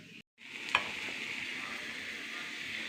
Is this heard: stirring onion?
yes